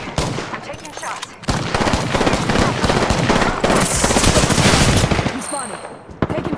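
Rapid automatic gunfire from the video game Apex Legends rattles almost continuously in loud dense bursts, with brief pauses and a few sharper single shots near the end.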